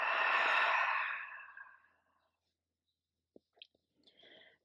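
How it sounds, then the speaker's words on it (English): A long, breathy open-mouth cleansing exhale during a yoga session, loud and close, fading out over about two seconds and followed by quiet with a few faint small noises. "And an open mouth, cleansing exhale."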